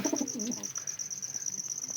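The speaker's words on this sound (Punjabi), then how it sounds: "ਰੱਤਾ ਕਬੂਤਰ ਤੇ ਹੋਰ ਰੱਤਾ ਕਬੂਤਰ" A red-headed pigeon gives a few soft, rolling coos near the start, then fades into a high constant hum with light scattered clicks.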